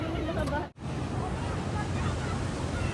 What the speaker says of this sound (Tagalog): Actually, ang taas nga ng tubig ngayon. Malakas ang alon.